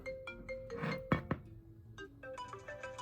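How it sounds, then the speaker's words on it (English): Default iOS 7 ringtone playing from an iPad mini, a short melodic run of bright, clear tones, quiet and alone with no talking. "Okay, let's go through the ringtones. This is the default."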